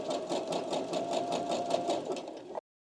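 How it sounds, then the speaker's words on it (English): A sewing machine stitches in reverse for a few back stitches to lock a seam, running steadily with a fast mechanical whir and rhythmic needle clatter. It is close and alone, and it stops abruptly after about two and a half seconds. "the machine is going to sew backwards"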